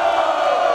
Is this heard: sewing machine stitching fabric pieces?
no